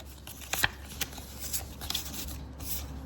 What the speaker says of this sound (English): I really like the sound of like card shuffling